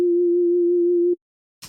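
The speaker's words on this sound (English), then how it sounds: "I've got this sine wave coming out of operator" A pure sine wave from the Operator synth in Ableton holds one steady, rock-solid mid-low pitch for about a second, then cuts off abruptly into silence before a brief burst of noise.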